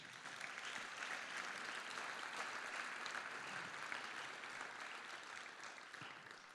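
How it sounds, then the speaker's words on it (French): Steady, dense applause from a conference audience at a talk on nuclear power, a continuous wash of many hands clapping, heard at a distance and fairly faint, with no voices on top. "je vous demande de les applaudir déjà bien fort"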